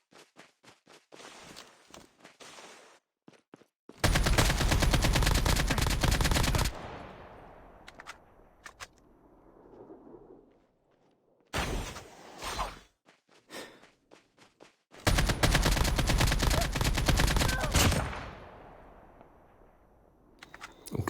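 Gunfire in the mobile shooter COD Mobile Warzone: two long, loud bursts of automatic fire, each lasting about three seconds, with scattered sharp shots, clicks and footsteps in between and a quieter stretch in the middle.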